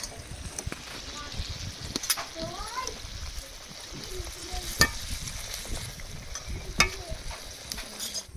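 Fried chela fish tip into a sizzling yam-stem curry, with steady frying hiss, scraping stirs and occasional clatter of a utensil against the pot, close and moderately loud.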